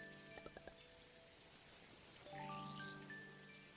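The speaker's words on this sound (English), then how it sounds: "Rain's visiting the island." Rain falling on an island in the video game Dinkum, a soft steady patter joined by gentle chiming game tones, with no talking.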